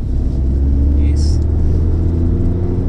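Audi TT engine held in second gear with a light rev, a loud steady low rumble filling the cabin, with a faint brief chirp above it and no talk.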